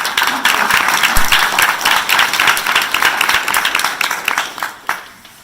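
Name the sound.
audience applause at parents meeting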